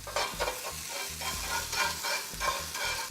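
French toast fries in butter in a hot pan, giving a steady close sizzle with irregular scraping and stirring knocks from a utensil and no voices.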